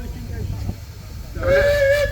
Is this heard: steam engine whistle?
yes